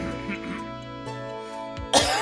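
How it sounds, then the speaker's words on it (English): A single sharp cough, close and brief, bursts out at the end of a short stretch of quiet room tone in an indoor recording setting. "that cough is going into the final bit"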